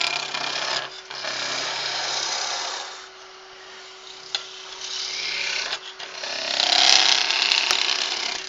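Skew chisel peeling shavings from wood spinning on a lathe, giving a continuous raspy cutting hiss that comes in several passes with brief pauses, under the low steady hum of the machine.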